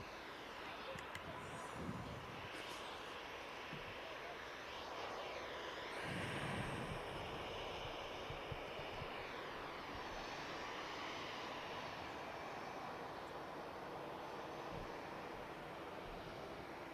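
An Airbus A319 bound for Milan moves out at Manchester Airport, a steady broad jet-engine roar that swells and holds for the whole stretch, with voices occasionally heard under it.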